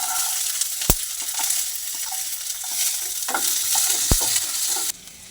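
Black mustard seeds and chopped onion fry in hot oil, a dense close sizzle with scraping stirs and two sharp knocks of a spoon on the pan, ending abruptly; no one speaks.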